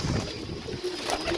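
A Rampuri pigeon coos at a pigeon sale in Sarai Alamgir. It gives a brief, soft, low cooing close by, with faint background noise.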